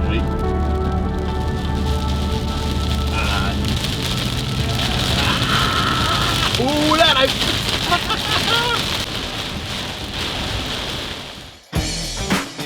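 Steady rain in Zamboanga del Norte, Philippines, hisses heavily against a surface, close and loud, with a voice speaking briefly partway through before the sound cuts off.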